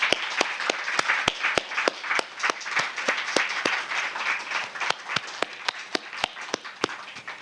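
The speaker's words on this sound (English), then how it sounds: "Come on, another round of applause" A large audience at a Juneteenth community celebration program applauds steadily, a dense wash of clapping with sharp individual claps standing out, sustained for several seconds without speech.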